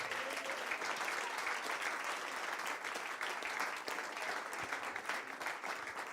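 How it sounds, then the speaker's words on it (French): A church congregation applauds and cheers during a French-language sermon, a dense, steady wash of clapping that fills the whole stretch at moderate level with no break. "Donnez-lui une acclamation."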